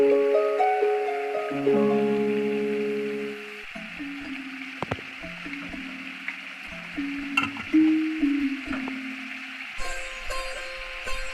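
Asafoetida (hing) sizzles in hot oil while being stirred, a soft steady crackle under a layer of background music tones, with a few brief clinks.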